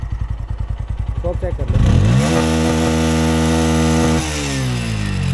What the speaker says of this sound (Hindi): इसको रैप करके दिखाते हैं कि कितना 1000 RPM तक ये जो है जाती है, तो इसको स्टार्ट कर लेते हैं एक बार